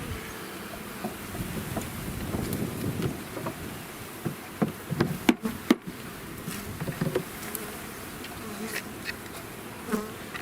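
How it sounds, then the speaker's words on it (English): Honey bees pour out during a package bee installation, a dense outdoor buzz of many wings with occasional closer passes swelling and fading, and a few sharp handling knocks partway through. "You can see these bees are attracted to my dark hair."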